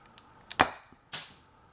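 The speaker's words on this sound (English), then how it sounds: "Here we go, the next shooting test, firing in 3, 2, 1." Homemade gas-powered BB sniper rifle firing, heard as a couple of faint clicks, then a sharp loud pop and a second hissing snap within under two seconds, close by.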